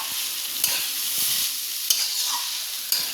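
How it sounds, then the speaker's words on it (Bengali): Chow mein noodles tossed and stirred with vegetables in a hot pan, a steady close sizzle broken by a few sharp scraping clacks of the utensil, with no talking. "ভালো করে চাউমিনটাকে মিক্স করে নিতে হবে সবজির সঙ্গে"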